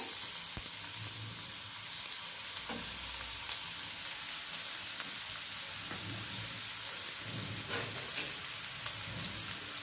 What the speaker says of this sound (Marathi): तेल आपलं छान गरम झालं की त्याच्यात आपल्याला तो कांदा मी कट करून घेतलेला बारीक तो ह्याच्यामध्ये टाकून घेऊया